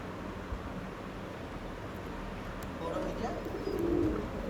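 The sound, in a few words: Andhra pigeons cooing in loft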